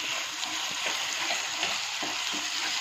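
Ginger garlic paste fries in hot oil over fried onions and whole spices for a prawn malai curry, giving a loud, continuous sizzle with occasional stirring scrapes close by.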